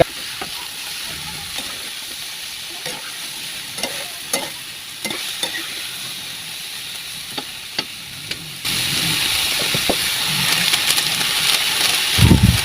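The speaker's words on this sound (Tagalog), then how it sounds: "Luto na yung ating karne, kaya lagay na rin natin ang ating sipaw. Haluin lang nating maigi." Meat and string beans stir-fried in a pan, a steady sizzle that gets louder partway through, with the repeated scrape and clack of a spatula stirring, close and without talk.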